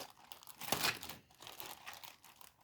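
A plastic parts bag from a Lego City 60368 Arctic Explorer Ship set crinkles and rips open close by, one brief sharp tear among soft rustling, quiet overall.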